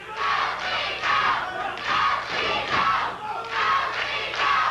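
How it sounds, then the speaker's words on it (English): A 1984 wrestling arena crowd chanting 'Go, Steve, go' in rhythmic waves, loud and sustained, with many voices rising and falling together. "And you can hear the crowd picking up the chant"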